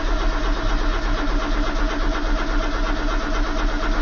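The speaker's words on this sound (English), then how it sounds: "It's not attempting to fire." Car engine with a fault light on and water in it, cranking steadily without firing, a loud, even, rhythmic starter churn heard close up for the whole stretch with no talk.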